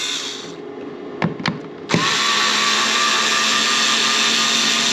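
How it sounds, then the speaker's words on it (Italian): A cordless electric screwdriver unscrewing screws, a few short clicks and handling knocks followed by a sustained, close whirring motor run that continues steadily to the end. "io svido col mio avvitatore"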